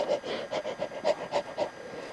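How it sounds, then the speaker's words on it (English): A person pants hard and fast after walking in the heat. The breaths are close and rhythmic, about eight quick exhales and inhales in a couple of seconds. "Still panting."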